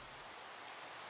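Steady rain falling in Minecraft, a soft, even hiss of drops on surfaces running without pause, fairly quiet and with no voices.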